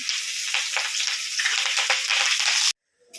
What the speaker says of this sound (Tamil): கொஞ்சோண்டு கருவேப்பிலை சேர்த்திக்கலாம்.